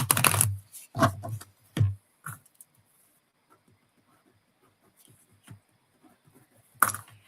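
Tarot cards shuffled by hand in a quiet room, several crisp riffling bursts in quick succession, then scattered soft card handling and a final sharp riffle.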